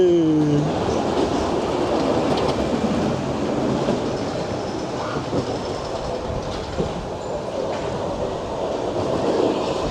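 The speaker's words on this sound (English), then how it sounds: "And the USA train there as well." Train ride at Seabreeze amusement park rolling past, a steady loud rumble with rattling wheels and a brief squeal at the start, continuous throughout, with faint voices in the background.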